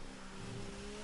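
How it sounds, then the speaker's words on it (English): Formula 3 race car engine at the Baku street circuit, held at a steady high rev through the castle section, a continuous droning whine with a brief brighter burst at the very end. "Really revving that engine."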